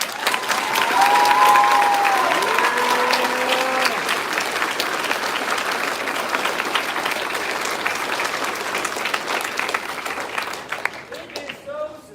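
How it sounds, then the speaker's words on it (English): An audience applauds first-time choir performers at a school fall concert, sustained dense clapping across a packed hall that slowly tapers, with a voice speaking briefly over it near the start. "Can we give a special round of applause?"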